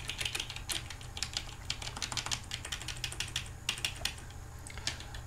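Rapid computer keyboard typing during a roguelike game session, a dense stream of crisp key clicks running steadily throughout over a low constant hum, with no talk.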